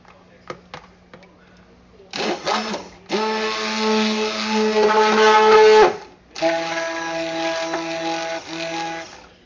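Lye and oil for ocean breeze soap being mixed with a stick blender, which whirs loudly in two long bursts after a few light clicks, with a brief stop between runs.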